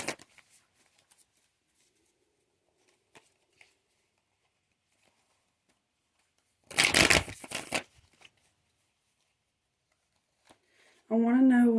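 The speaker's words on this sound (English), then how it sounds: "me shuffle really quick." Playing cards riffled quickly in a single short burst partway through an otherwise quiet room, followed later by a voice speaking.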